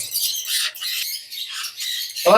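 Shrill, harsh lovebird squawks repeating rapidly and loudly at close range, several calls in quick succession with no talking.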